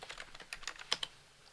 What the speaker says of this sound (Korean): 윈도우즈 R키 누르고